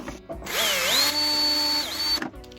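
A thin 1.5 mm drill bit bores into a soft archtop jazz guitar bridge, the small power drill whining up to a steady high pitch, dipping briefly under load, then spinning down; close and alone.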